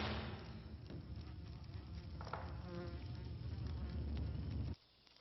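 A wasp fighting red tree ants in the forest, a close, continuous buzzing drone with faint rustling and scrabbling, cutting off abruptly near the end.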